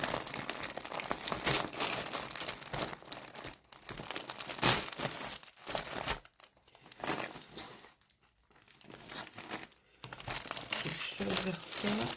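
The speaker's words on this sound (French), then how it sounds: "désolé hein, pour les bruits de papier" Paper packaging crinkles and rustles loudly and close up while a crochet kit packed in a pouch is unwrapped, with crumpling bursts and brief pauses, and a voice speaks intermittently over it.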